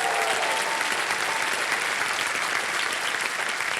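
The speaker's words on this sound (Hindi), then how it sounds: "तालियां बज जाए इनके लिए।" Sustained studio audience applause on a television quiz show, dense clapping at an even level for several seconds.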